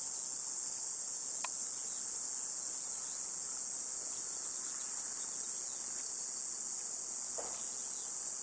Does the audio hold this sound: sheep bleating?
no